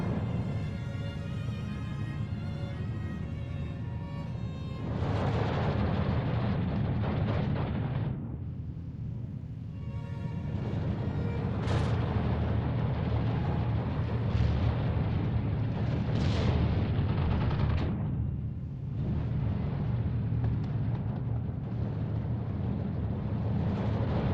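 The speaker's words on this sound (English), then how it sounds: "These two mortars were really annoying. They have also high rate of fire." Steel Division battlefield mortar fire with a high rate of fire: loud, dense, continuous rumbling barrage of booms and explosions that swell and dip across the whole stretch, with no talking.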